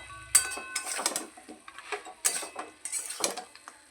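Pumpkin greens chorchori with vadi being stirred in a pan; a utensil scrapes and clinks against the pan in uneven strokes, close and clear with no voices.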